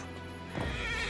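A horse in the video game Where Winds Meet gives a short, loud neigh that swells up over a steady background hum, with no voices.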